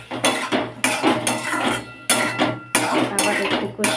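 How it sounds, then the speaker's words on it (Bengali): A spoon stirs and scrapes masala with sugar in a metal pan for casein kofta curry, four or five loud clattering bursts of scraping and clinking at close range, alone. "আবার একটু কষিয়ে নিলাম, চিনিটা ভালো করে মিশিয়ে নিলাম।"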